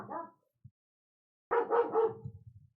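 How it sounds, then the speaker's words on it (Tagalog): A dog barks nearby in two short bursts, a brief yelp first and then a louder run of barks after a quiet pause, heard alone with no talking. "Wait lang, maingay yung aso."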